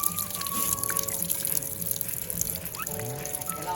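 Water pours steadily into an inflatable backyard paddling pool, a continuous splashing trickle close by with faint bird calls and soft background sounds.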